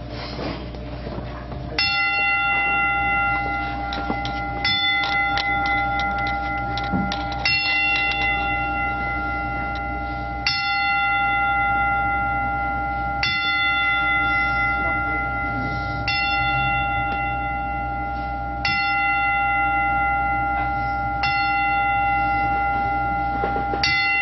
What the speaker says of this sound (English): as a tradition, 10 bells to honor those that have fallen